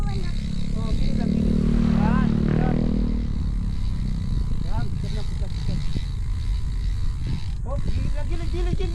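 A motorcycle engine hums and swells as it passes on a road near a small boy riding a bicycle toward Mt. Carmen Valley in Calamba, Laguna, loudest around the middle before fading, with an adult talking over it throughout.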